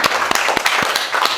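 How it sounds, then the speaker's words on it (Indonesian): A class applauding, a brief burst of close hand claps with several distinct sharp claps standing out over a crowd's clapping. "Tepuk tangan dulu, tepuk tangan untuk kelas ini."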